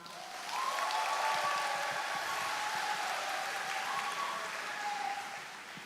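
A large church audience breaks into sustained, dense applause that swells quickly and holds steady for several seconds, with a faint tone sounding underneath.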